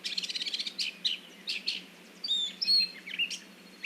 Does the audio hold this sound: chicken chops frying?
no